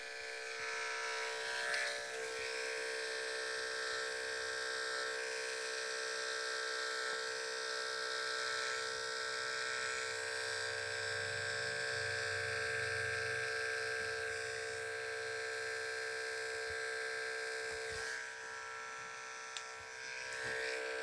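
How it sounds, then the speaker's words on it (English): An electric hair clipper works slowly through very thick hair during a high skin fade, giving a steady, close, high-pitched buzz that holds almost unchanged, dipping only briefly near the end. "you got to go slow with the clipper and let it work"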